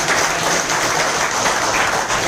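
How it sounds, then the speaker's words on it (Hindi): A hotel-hall gathering at a business meeting breaks into steady, dense applause from the audience, loud and close, with no gaps across the short stretch. "इनके लिए भी जोरदार ताली हो।"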